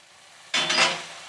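Tomatoes with turmeric hit a hot pan for a cluster beans palya, setting off a sudden loud hissing sizzle that holds steady and slowly eases, close up with no talking.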